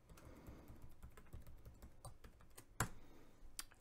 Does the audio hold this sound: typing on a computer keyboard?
yes